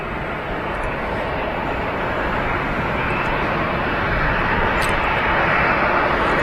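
An EasyJet Airbus A320 arriving from Alicante comes in on approach to touch down at Manchester Airport, its loud, continuous jet roar building gradually in strength, with no talking.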